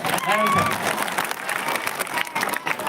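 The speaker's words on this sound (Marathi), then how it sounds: "एकदा त्यांच्यासाठी जोरदार टाळ्या होणार." Loud crowd applause filling a hall at a Marathi district-level public event, a dense burst of clapping that holds steady for about three seconds with a voice heard over it near the start.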